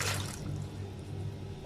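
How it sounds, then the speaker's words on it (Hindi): Water poured into a pot of washed sweet potatoes, a soft steady splashing trickle heard close up and at moderate volume, with no talking. "और अब मैं इसमें 1 कप तक पानी ऐड कर दूंगी"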